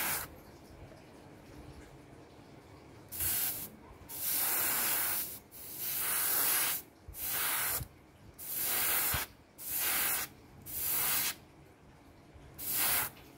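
Airbrush fitted with a 0.2 mm nozzle sprays clear coat paint in repeated short bursts of soft, close hissing, each lasting about a second, separated by quiet pauses.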